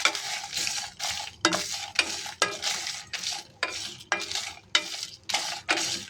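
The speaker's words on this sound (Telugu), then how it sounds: "జస్ట్ మనకు అందులో పచ్చిదనం పోయి మనకు స్మెల్ అనేది బయటకు వచ్చే వరకు వేపుకోవాలండి" Star anise, cumin, cardamom and dried chillies fry in a pan of oil, stirred with a spatula that scrapes in a steady series of bright, close bursts over a low sizzle, with no talking.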